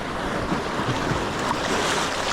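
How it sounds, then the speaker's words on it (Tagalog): Big ocean waves surge and crash around a boat at sea, a loud, continuous wash of surf mixed with wind buffeting the microphone, with no voices. "ang lalaki na ng alon grabe"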